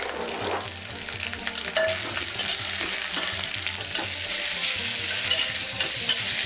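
Drumstick leaves sauté and stir in a hot pan, giving a steady close sizzle and frying hiss with light scraping stir sounds throughout and no talking.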